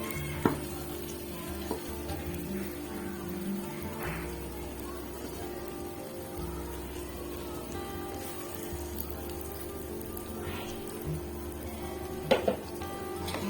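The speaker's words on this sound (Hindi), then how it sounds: "बड़े एहतियात से चम्मच हिलाना है ताकि मसाला जो है वो नीचे ना लगे।" A spoon stirs egg masala with whole chillies in a pan, giving soft, continuous scraping and gentle sizzling at close range, with a few brief clinks and no voices.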